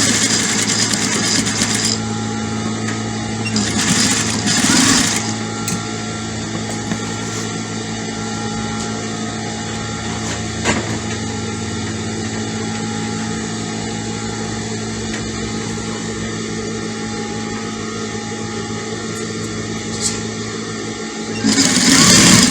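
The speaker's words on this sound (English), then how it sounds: "So we're just stitching it at the center, stitching it nicely at the center." A sewing machine stitches the center seam of an adult peplum dress, a loud steady mechanical whir running almost unbroken for about twenty seconds, with short pauses near the start and a few small clicks.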